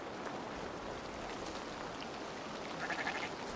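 Sheep in Assassin's Creed Valhalla bleating faintly in a short call near the end, over a steady hiss of ambient game background.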